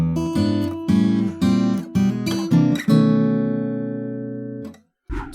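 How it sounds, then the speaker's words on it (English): A fingerstyle acoustic guitar plays a 12-bar blues turnaround, a short run of plucked notes and chord stabs up close, settling onto a final ringing chord that decays before a brief noise at the end. "Which brings us to our last two bars of the 12-bar blues, which we'd call a turnaround."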